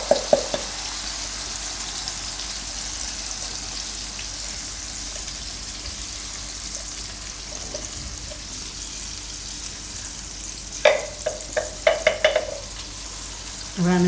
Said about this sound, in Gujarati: થોડોક ગેસ ધીમો કરી દેવું અને આ બધી ગ્રેવી એમાં નાખી દેવું.